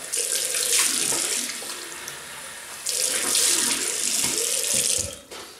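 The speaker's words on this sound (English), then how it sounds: "Okay, rinse off." Tap water runs steadily into a sink while a face is rinsed after a wet shave, splashing in two close, loud stretches with a brief dip between them and no voices.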